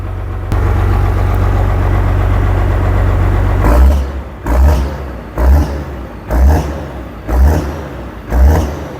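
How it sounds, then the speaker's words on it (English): A turbocharged Fiat NH 110-90 tractor engine idles steadily up close, then settles into a series of five rhythmic surging bursts, each a throaty swell in loudness, with no talking. "I'm leaving the tractor running because I'm going to put it back into the shed here now anyway"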